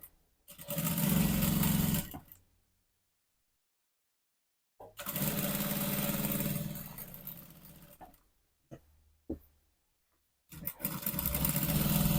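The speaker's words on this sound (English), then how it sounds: "Stitch till you get to where the pocket is. Keep the needle in. sew around the pocket." A sewing machine stitches down a trouser side seam and around the pocket, running in steady whirring bursts separated by pauses, with a few short taps between runs.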